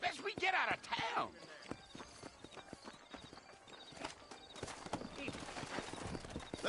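Horses walking through town in Red Dead Redemption, steady clip-clop of hooves with an occasional whinny, heard beneath talking voices.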